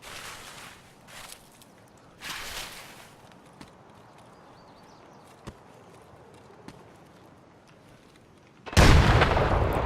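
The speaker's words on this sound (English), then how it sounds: "The flashbang gave away the position of an incoming player." A flashbang grenade bursts in an Escape From Tarkov firefight, a sudden loud broadband blast near the end after scattered footsteps, thuds and distant shots, holding at full level for the final second.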